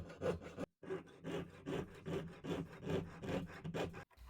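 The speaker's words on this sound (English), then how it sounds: "I thread through the saw blade, so I was able to cut out the middle section" Rhythmic rasping strokes of a jeweler's saw cutting through thin metal sheet, steady back-and-forth cuts with a brief pause near the start, close up.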